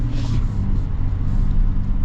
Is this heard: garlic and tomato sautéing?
no